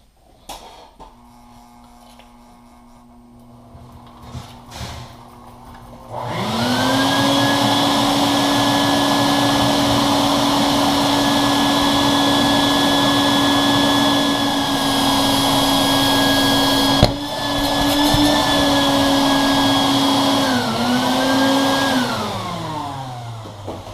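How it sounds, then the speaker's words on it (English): A vacuum cleaner starts up after a few seconds of quiet, then runs with a steady, loud whine and hum before winding down near the end. "Got my handy dandy power vac here."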